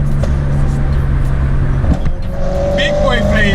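A loud modified BMW M3 roars past close by, a deep rumbling exhaust blaring steadily throughout, with a faint higher whine near the end, heard over constant engine noise.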